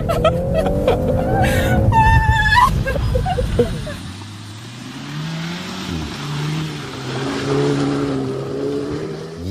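A Volkswagen Golf R 8th generation drifts on a frozen ice lake, its engine revving and droning with rising and falling pitch under scattered voices and talk.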